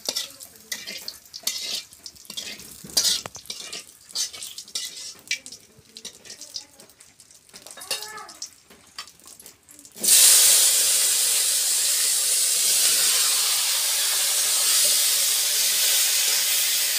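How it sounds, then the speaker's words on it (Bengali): Bay leaf and cumin are tempered in oil left from frying fish, with irregular stirring and clatter at first, then a sudden loud, steady sizzling hiss that persists to the end, close up and with no voices. "মাছ ভাজার তেলে এই যে সম্বার দিয়ে দিলাম, তেজপাতা দিয়ে দিলাম,"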